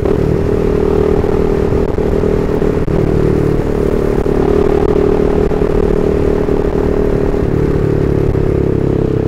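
A CFMoto 300SR motorcycle engine accelerates on the road, a loud, continuous drone with steady engine tone and wind rush, close to the rider throughout.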